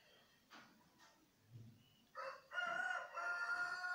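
After a few faint scattered sounds, a rooster lets out one loud, close crow that rises sharply and holds its drawn-out, wavering call to the end.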